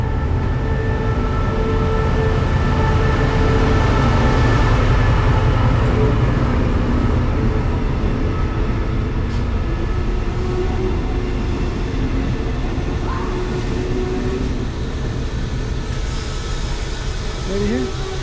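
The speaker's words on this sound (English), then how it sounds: "Okay, so this is my train." Steady rumble and hum of an overnight sleeper train running from Udon to Bangkok in Thailand, a continuous close interior drone with faint tonal whine and no clear breaks.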